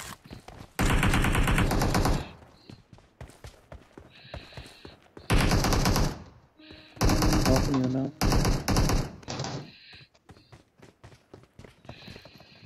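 Bursts of rapid automatic gunfire in loud, repeated volleys, separated by short gaps with quieter background sounds.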